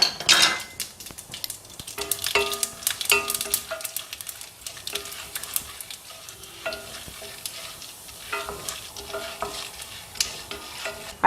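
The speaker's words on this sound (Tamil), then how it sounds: "இப்போ பாருங்க எண்ணெய் சூடாயிருச்சுங்க. அதில் நம்ம கடுகை போட்டுக்கலாம். அடுத்தது கடலைப்பருப்பு போட்டுக்கலாங்க." Mustard seeds and chana dal frying in hot oil, crackling and sizzling with frequent sharp pops, while a spoon stirs and clinks against the pan close by.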